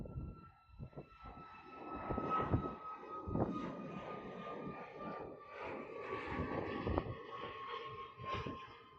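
An airplane engine roars at Honolulu airport as it spools up for takeoff, a fairly distant, steady rumble with some rising and falling swells.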